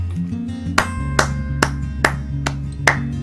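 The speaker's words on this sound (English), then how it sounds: "Everybody just clap for that." A few people clap in separate sharp bursts, about six spaced strikes over a low steady musical hum from a fantasy RPG game.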